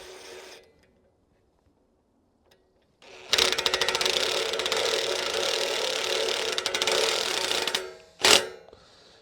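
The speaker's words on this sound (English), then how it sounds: "I'm not going to tighten them all the way because I need slop to line up the rest of the bolts" A ratchet wrench snugs nylock nuts onto a bottom bracket during an off-grid cabin foundation build: brief faint knocks, then a loud, continuous stretch of rapid ratcheting clicks, and a sharp final burst of cranking, close up and without speech.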